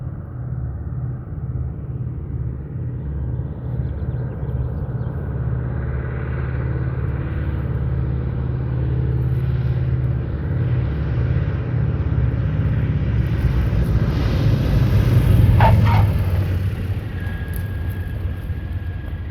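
A 1954 Twin Beech D-18 touching down in a wheel landing, its twin radial engines droning loud and steady throughout with a heavy low rumble, swelling slightly near the end as the wheels meet the runway.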